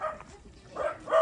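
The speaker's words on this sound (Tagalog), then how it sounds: "Eh, mga aso naman yan." Several dogs barking in short bursts, loudest at the start and again near the end, with a quieter lull between them.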